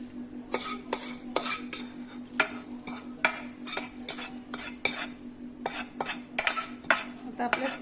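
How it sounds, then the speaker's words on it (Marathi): A spoon scrapes and clinks through thin poha chivda in a pan for Diwali snacks, a steady series of soft metallic taps and rustles under a low hum. "आता आपण हे पोहे या याच्यामध्ये एकजीव करणार सर्व मिक्स करणार व्यवस्थित"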